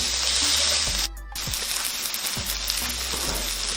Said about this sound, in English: Cook our onions until slightly translucent and soft. Just mix them in there with all your garlic and chili paste.